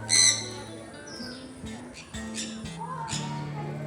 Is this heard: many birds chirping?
yes